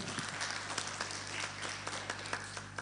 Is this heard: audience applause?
yes